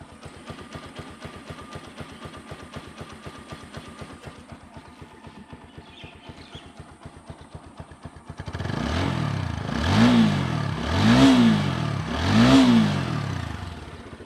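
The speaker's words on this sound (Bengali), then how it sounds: "গাড়ির সাউন্ড আপনারা শুনতে পারলেন, একেবারে নতুনের মতো সাউন্ড আছে।" A TVS Apache RTR 4V motorcycle in fresh, like-new condition idles with a steady close chug, then revs up three times in rising and falling sweeps, louder than the idle.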